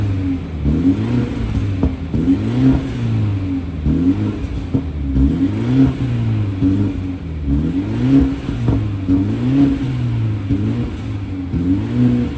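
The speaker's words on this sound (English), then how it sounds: "So now I'm gonna show you I'll put some clips of the exhaust" A 2020 BMW 430i xDrive with the B48 engine, its exhaust rumbling steadily and close by through repeated rev rises and falls, with no talk.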